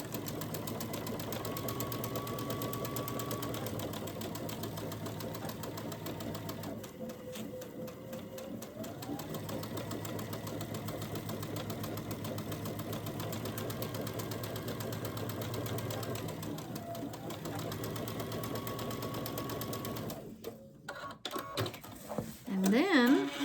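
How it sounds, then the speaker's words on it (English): Sewing machine stitching down the seam of a disappearing hourglass quilt block, a steady continuous motor whir with two short pauses before it stops near the end and handling noises follow. "take it to the machine and stitch down this side"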